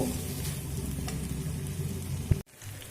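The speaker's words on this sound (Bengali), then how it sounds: "ভেজে রাখা আলু আর দেব উচ্ছে দিয়ে আবারও এক থেকে দু মিনিট মিডিয়াম ফ্লেম করে কষিয়ে নেব" Potatoes and bitter gourd sizzle steadily as they are sautéed in a pan over a medium flame, a dense continuous crackle with a brief clatter near the end before the frying sound drops away.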